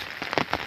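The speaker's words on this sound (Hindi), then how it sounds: "तो मौसम इस तरह से लग रहा है कि गाइस बहुत तेज़ बारिश लग रही।" Heavy rain pouring down outdoors, a dense steady hiss with loud splattering surges, close and strong throughout a very short stretch.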